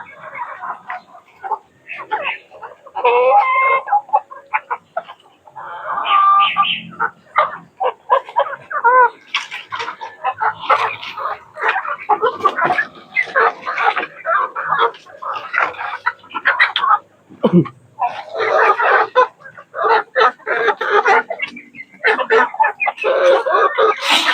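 Chickens raised for laying eggs cluck busily and continuously, close by. Other animal calls and faint voices mix in.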